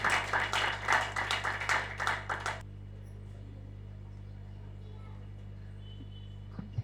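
Brisk hand-clapping from a seated audience at a Tamil astrology academy gathering in Erode, lively and fairly near for about two and a half seconds, then stopping abruptly into a quiet room hum.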